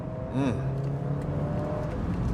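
An Alfa Romeo Giulia engine revving hard through the gears near redline on a winding road with hairpin corners, a steady close engine drone with a brief rising rev, heard from inside the car.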